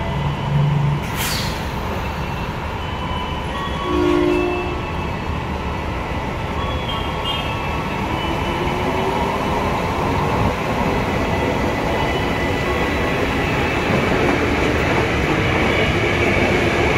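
KRL Commuter Line electric train pulling into Cawang station in Jakarta, a loud steady roar of wheels and motors with brief brake squeals, continuous and close throughout.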